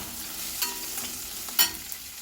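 Onions frying in a pan for fish molly, a soft continuous sizzle broken by two scraping stirs, the second one louder and sharper, with no voices.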